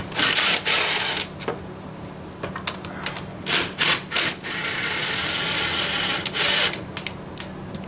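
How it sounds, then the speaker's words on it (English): Bolts being spun out in the engine bay of a 2013 Dodge Ram, with bursts of ratcheting clicks and metallic rubbing that start and stop over a steady background hiss, close by. "Get up in here and we'll spin these bolts right out."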